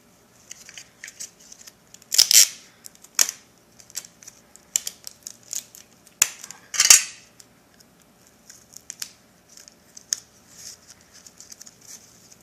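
Tape is pulled and pressed around plastic-wrapped Lao sour pork sausages (som moo), giving close, irregular crackling rips and sticky snaps, with two louder tearing bursts among lighter ticks.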